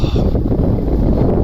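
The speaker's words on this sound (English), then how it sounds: "turning cold and windy." Cold wind blows outdoors beside a lock on the River Calder, a loud continuous roar buffeting the microphone with no voices.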